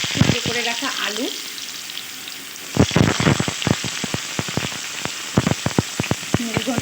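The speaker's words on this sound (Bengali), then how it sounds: "গরম হয়ে গেছে, দিয়ে দিচ্ছি কুচি করে রাখা আলু।" Chopped potatoes go into a kadai of hot mustard oil on a gas stove, setting off a bright sizzle. A run of sharp, close clicks follows as a spatula stirs against the pan.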